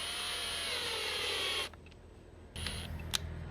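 A power drill whines at high speed drilling into a jet ski engine part, then stops abruptly; after a brief quiet, a lower rumble and a couple of clicks follow.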